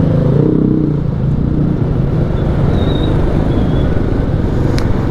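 Heavy, congested road traffic at a busy three-way junction, cars and motorcycles idling and revving in a dense, continuous rumble, loud and close with no talking.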